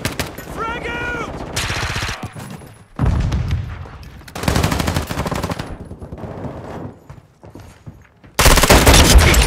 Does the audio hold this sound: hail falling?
no